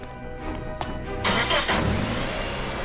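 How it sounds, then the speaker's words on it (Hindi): A car engine starts up after a quieter moment, then runs with a broad, rushing roar close by, steady and fairly loud in a crime drama scene. "गाड़ी की आवाज।"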